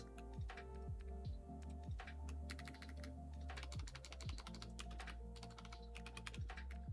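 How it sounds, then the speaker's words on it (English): Quick, steady keystrokes clatter on a computer keyboard while commands are entered for a horse mod in Minecraft, close and continuous, with a low game hum under the clicks. "These commands that I'm typing in"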